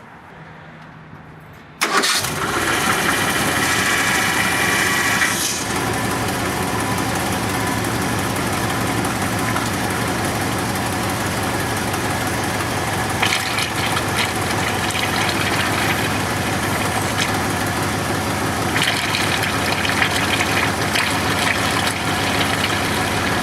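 A car engine cranks and catches, then runs at a steady, loud idle while the steering wheel is turned. The car has a newly replaced power steering pump being flushed, and a faint shift in tone comes partway through, with no talking.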